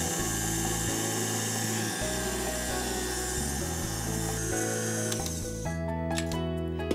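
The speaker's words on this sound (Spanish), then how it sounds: "Vamos a batirlo bien hasta que quede muy homogéneo" Electric hand mixer whirring steadily through apple sponge cake batter of flour and butter in a bowl, a close, loud continuous motor drone with slight shifts in pitch, no speech.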